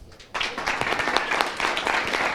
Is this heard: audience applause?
yes